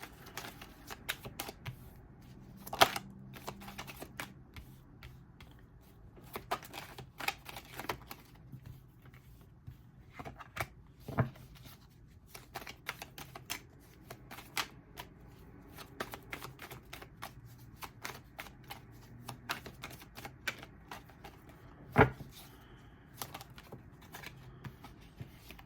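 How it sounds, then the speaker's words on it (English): Tarot cards are shuffled and pulled by hand at close range, with soft riffling patter, sharp card snaps and slaps scattered irregularly, and no talking. "I'm going to pull 3 cards for the base spread, 3 cards for clarifier."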